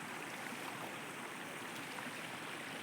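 Rainwater rushes across a road in a steady, faint broadband wash after heavy rain, flowing continuously with no voices.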